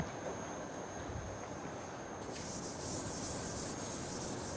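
Writing is rubbed off a lecture board with a steady, close scrubbing friction that continues without pause for several seconds, no talk over it.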